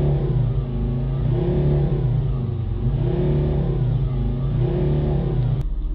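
A car engine idles and revs steadily to warm up, a continuous close, loud mid-pitched rumble with gentle rises and falls in engine speed and no talking.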